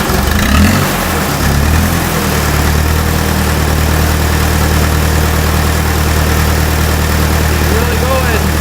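A Fiat 352c farm tractor's diesel engine runs steadily close by, with a brief rev near the start before settling into a loud, continuous idle throughout.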